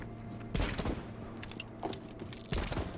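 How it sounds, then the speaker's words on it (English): Gunfire in the video game Voidtrain, two heavy bursts about two seconds apart over a steady mechanical hum, fairly loud and close with no talking. "I'm just firing randomly because it's more fun that way"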